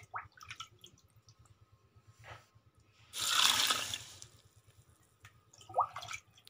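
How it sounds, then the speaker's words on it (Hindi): Water poured from a cup over jaggery in a cooking pot, a loud broadband splashing pour of about a second, with faint clinks and small liquid sounds before and after. "बर्तन में गुड़ डालेंगे, एक प्याली गुड़ की है और इसमें 3 प्याली पानी डाल के इसको पिघला लेना है"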